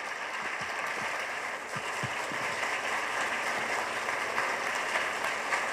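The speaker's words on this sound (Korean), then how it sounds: "큰 박수 부탁드립니다." Steady applause from a university lecture audience welcoming a speaker, a dense wash of clapping that holds at an even level throughout without letting up.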